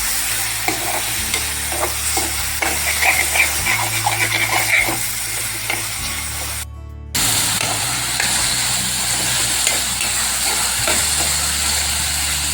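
Tomatoes and green chillies sizzle and hiss in a pan while a spoon stirs through them with scraping strokes, the frying steady and close, broken by a brief quieter moment partway through.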